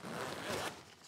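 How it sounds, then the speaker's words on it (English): A zipper on a Jujutsu Kaisen merchandise item is pulled once in a quick close rasping stroke lasting about a second. "And you get fun features like this zipper."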